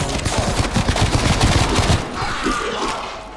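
Rapid automatic gunfire from a weapon in Call of Duty Black Ops Cold War zombies mode, loud dense bursts for about two seconds, then trailing off into quieter rumbling game noise.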